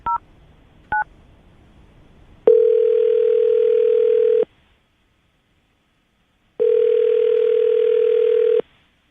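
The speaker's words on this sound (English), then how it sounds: "I'm going to dial the phone number, see if we can get her on the phone." A phone being dialed: two short DTMF keypad tones, then a ringback tone pulsing twice in long, steady, loud buzzes separated by silence on a telephone line.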